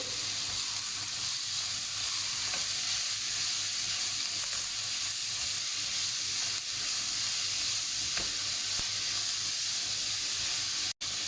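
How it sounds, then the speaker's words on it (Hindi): Grated bottle gourd halwa cooks in a pan over a medium flame, giving a steady, close sizzle and hiss that lasts throughout, with faint scrapes of stirring and no talking. "मीडियम फ्लेम पे इसे हम कुक करेंगे। मिक्स कर लेंगे।"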